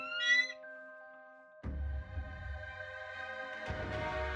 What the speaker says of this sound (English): The whistle emits an awful sound, and the horizon turns volcanic as a flock of pyrebirds comes heading right for you.